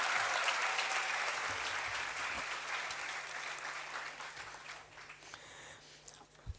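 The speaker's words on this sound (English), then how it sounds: "can we have a huge round of applause for all of you?" Graduates and guests at a degree certificate distribution ceremony give a sustained round of applause, moderately distant and fairly quiet, gradually fading toward the close.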